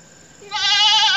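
A goat bleats in an Indian village, one loud wavering cry that starts after a short quiet moment and carries on to the end.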